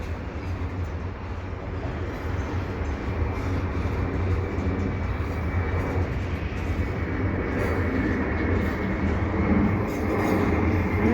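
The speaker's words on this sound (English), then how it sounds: "Quite a long train." A CPKC eastbound intermodal freight train passing at the Dorval ramps in the evening, a loud, continuous rumble of rolling wagons and wheels that holds steady throughout as the long train goes by.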